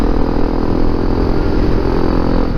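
A Honda CRF250L Rally motorcycle ridden along a twisty fire road, its single engine droning steadily and loudly up close with constant wind rush and no change in pace.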